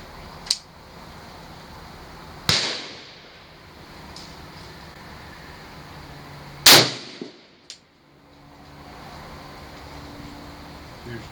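A single .338 Federal rifle shot goes off at a shooting range, a sharp loud crack with a fast decay, followed by a few fainter impulsive sounds and quiet outdoor background; no talking.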